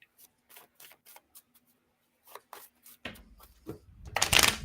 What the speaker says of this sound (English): when you're shuffling cards and you've done tarot forever